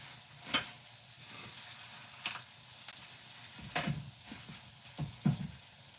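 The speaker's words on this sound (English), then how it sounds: "And then we just kind of mix this together a little bit here. Make sure you stir that." A mixture being stirred in a pan, with quiet continuous sizzling broken by a few sharp scrapes and clacks of a utensil against the pan, spaced irregularly.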